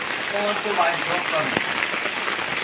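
Rain falling on a flooded city street in Sylhet, a steady, dense hiss of drops on water and pavement, moderately loud and continuous, with faint voices murmuring in the background and a brief tap near the middle.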